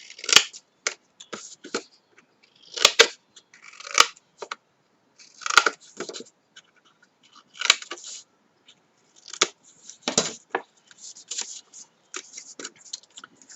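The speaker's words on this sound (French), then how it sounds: "Je vais venir couper là sur les morceaux, les languettes, comme ceci." Scissors snip through the paper tabs of a handmade post-it box in a run of sharp, close cuts, some in quick pairs, with short pauses and light paper handling between them.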